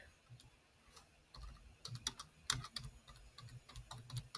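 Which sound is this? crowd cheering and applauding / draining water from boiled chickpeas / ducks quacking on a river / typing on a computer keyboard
typing on a computer keyboard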